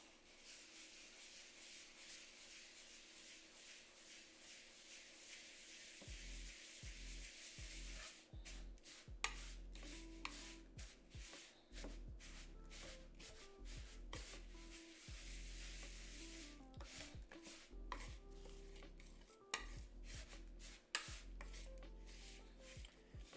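Oat cookie dough with butter stirred in a bowl, a soft scraping and rubbing that turns into repeated spoon knocks and thuds against the bowl, close and steady, with no talking.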